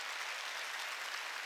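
A church congregation applauds with a dense, even wash of many clapping hands, steady and moderately loud for the whole moment, with no talk.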